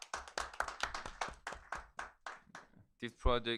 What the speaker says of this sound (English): I'd like to propose an applause to everybody, for ourselves